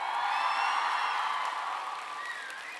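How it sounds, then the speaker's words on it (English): An audience applauds steadily at a school showcase, a dense wash of clapping that holds evenly and eases off slightly near the end, with a few whoops and whistles over it. "Let's give another applause for Jack."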